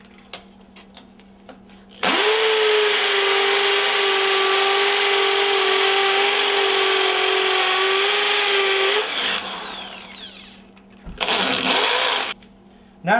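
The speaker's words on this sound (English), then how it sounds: "And I'll drill them a little deep." Power drill boring holes into a rotten wooden entrance door frame under repair: one loud sustained whine of about seven seconds, winding down at the end, then a brief second burst, with no talking.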